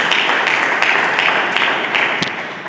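A church congregation claps steadily during a sermon, a dense, continuous wash of many hands that stays loud and even for a few seconds with no voices over it.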